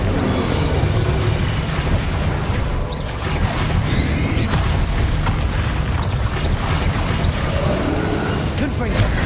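Booming blasts from the Confringo spell in a Harry Potter video game roll on continuously, loud and dense, with crashing bursts layered over a heavy low rumble and a voice speaking intermittently over it.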